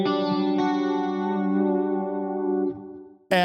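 Suhr Modern T HH electric guitar played through a chorus effect, a sustained shimmering chord that rings on for nearly three seconds before cutting off, followed by a brief new strum.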